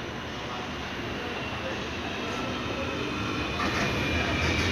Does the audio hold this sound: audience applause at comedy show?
no